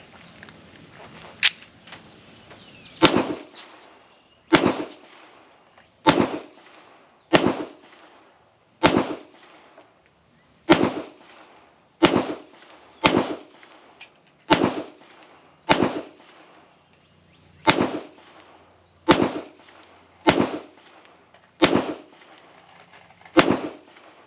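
Sharp, loud shots from a Kimber 2K11 pistol fired one at a time at a slow, deliberate pace, about sixteen cracks spaced a second or two apart, each with a short echo decay.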